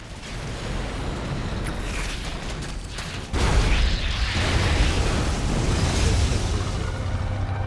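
The Eradicator, a large unit in the StarCraft 2 Zerg campaign, explodes. A rumbling, crackling blast swells abruptly midway and then rolls on as a sustained heavy roar, with no voices.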